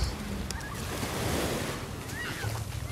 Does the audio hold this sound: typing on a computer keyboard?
no